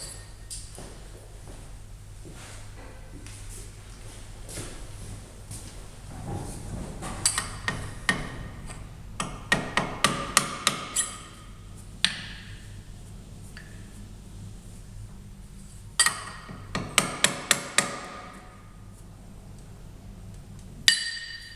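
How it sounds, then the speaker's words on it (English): A punch struck with a hammer taps a part on a mini pallet lathe, sounding as several clusters of quick, sharp metallic taps spread through a quiet workshop, each burst a rapid series of strikes with pauses between. "punch and a hammer, and I can tap it over there."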